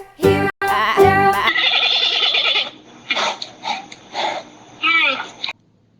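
Sheep bleat loudly and close at the start, a few strong wavering calls that give way to a series of shorter, quieter bleats with gaps between them.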